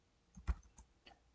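A few terminal commands tapped on a computer keyboard, three or four soft close key clicks spread unevenly, with one slightly firmer press near the start, and no voices.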